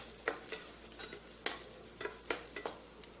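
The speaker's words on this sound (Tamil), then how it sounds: "அதில் நம்ம முந்திரி பருப்பு, காஞ்ச திராட்சையை வறுத்தெடுத்துடலாங்க" Cashews and raisins frying in ghee in a pan for vermicelli kesari, with crisp sizzling under repeated scraping strokes of a spoon that land at an irregular rhythm, close and fairly quiet.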